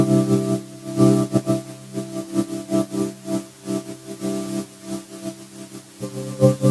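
A PHONA synth patch layering vocal samples with an oscillator noise layer, sustained chordal tones pulsing in a modulated rhythm, played alone.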